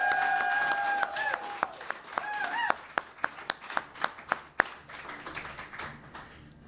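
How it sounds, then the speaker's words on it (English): Scattered audience clapping at a Nasdaq event for the Samfund thins out into a few distinct individual claps, sharp and evenly spaced, with faint voices mixed in. "Now, everyone, I think that deserves a big round of applause"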